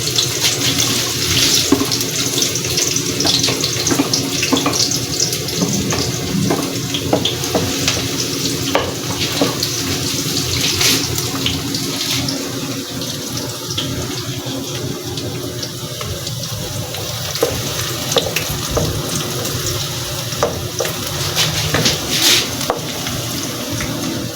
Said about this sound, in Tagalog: Gisahin muna natin ang bawang.